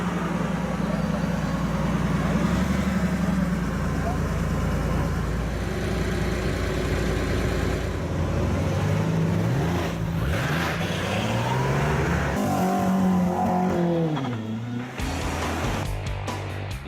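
Rally cars leave the start of a 17 km timed special stage at night, engines idling and burbling before one revs hard and pulls away, its pitch climbing through the gears, close and loud.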